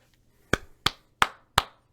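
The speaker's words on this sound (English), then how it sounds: "I just gotta give a little round of applause, man." Five sharp hand claps, evenly spaced at a steady moderate tempo, close and crisp against near silence.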